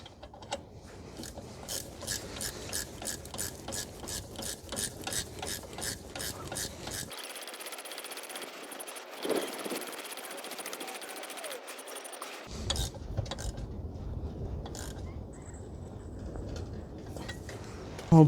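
Rapid ratcheting clicks from a hand tool tightening engine and transmission mount bolts on a 2014 Chevrolet Sonic 1.8, working in quick repeated bursts with a short quiet pause in between.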